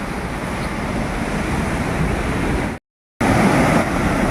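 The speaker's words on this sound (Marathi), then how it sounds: "हे सगळं वर वरून धरणातून येणारं पाणी आहे" Monsoon water pours down from a small dam in the Konkan countryside, a loud, steady rushing roar with wind buffeting the microphone, briefly cutting out near the end before resuming.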